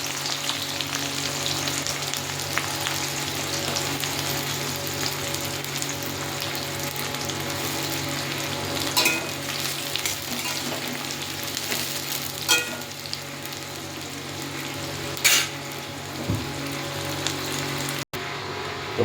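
Onion, bay leaf and garam masala fry in oil in a pan while a masala chicken is prepared, a steady close crackling sizzle with occasional louder pops and stirring scrapes, no talking.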